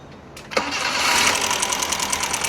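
A car engine fires up right after its loose timing belt has been tightened at the tensioner; a brief crank catches about half a second in, then settles into a loud, steady running roar with no talk.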